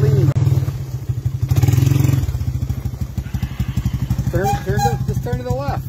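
A 1986 Yamaha YTM225DR three-wheeler engine chugs and revs in pulsing bursts close by, loud and rough, while a person calls out instructions over it.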